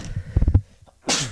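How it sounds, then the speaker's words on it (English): A person sneezes once, sharply and up close, after a short burst of breathy noise and a pause. "the coughing and sneezing tonight"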